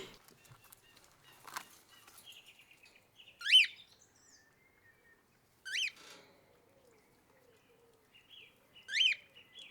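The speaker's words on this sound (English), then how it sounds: "so that they can enjoy the nature and be with other birds." Caged pet birds chirping outdoors, a few bright separate calls spaced apart over a quiet background, fairly close and alone with no voices.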